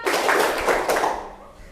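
A classroom group plays a rhythmic clapping game, many hands striking together in quick bursts that fade toward the end, fairly close and loud.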